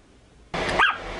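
A single short, high bark from a young puppy, close and sharp after a moment of quiet.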